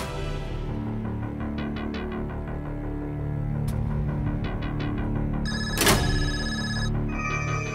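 A telephone ringtone rings steadily and loudly in an indoor scene, a repeating electronic tone pattern that runs throughout with a brief sharp click partway through.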